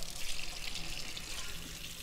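A juicer plunger is rinsed under a running kitchen tap, producing a steady, close hiss of flowing water with faint splashing and no voices.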